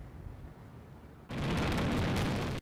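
Fourth of July fireworks bursting, a dense sustained roar of explosions and crackle that starts abruptly and stays loud for over a second after a quieter rumbling stretch, no talking.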